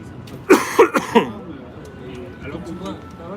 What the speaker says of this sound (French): quand tu commences à tousser